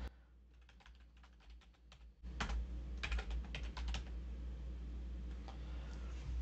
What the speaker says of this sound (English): open up our Windows search box and type in Windows Media